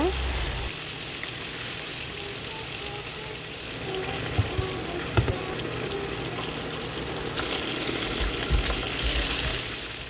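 Chicken pieces frying in oil in a pan, a steady close sizzle and crackle with occasional pops and clinks, continuing throughout.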